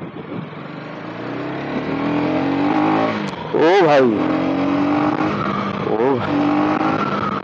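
A KTM Duke 250 motorcycle is accelerating hard during a power check. The nearby engine whine climbs in pitch in repeated surges, and a rider shouts briefly over it.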